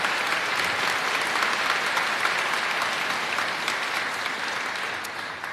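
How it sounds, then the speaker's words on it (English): A large audience at a cancer charity Christmas celebration breaks into dense, sustained applause, steady and full throughout before easing slightly at the end. "let's give them a round of applause"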